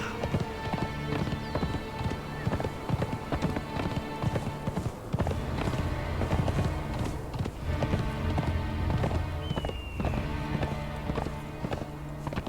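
Rhythmic clip-clop of horse hooves galloping steadily in the video game Conan Exiles, loud and close, with a dense layer of game music and ambient sound throughout.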